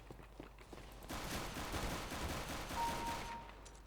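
Counter-Strike: Global Offensive gunfire, a sustained loud burst of automatic shots for about two and a half seconds after a quieter start, fading toward the end.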